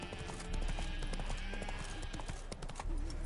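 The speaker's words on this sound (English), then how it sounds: "Spooking my horse." Horse hooves clip-clop steadily in The Witcher 3 video game as a spooked horse moves, with a whinny mixed into the busy, close game sound.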